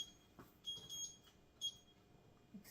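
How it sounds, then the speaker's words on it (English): A kitchen timer's alarm goes off with a few faint, thin electronic beeps in short bursts, heard at a distance in a quiet kitchen with no talk over them. "Excuse the timer."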